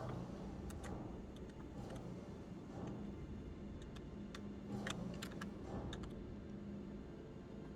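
Keys clack on a computer keyboard in quiet, scattered bursts of soft taps over a steady low background hum, with no voices.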